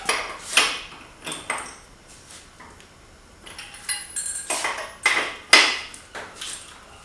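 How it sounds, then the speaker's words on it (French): A 27 mm wrench loosens a motorcycle wheel during a chain kit change: a close, irregular series of metallic clinks, clanks and scrapes, with short quiet gaps between them. "on va prendre notre clé de 27 et on desserre"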